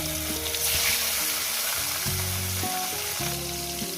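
Pieces of katla fish fry in hot oil in a pan, a dense, steady close sizzle that stays loud and unbroken throughout, with a musical backing underneath and no voices.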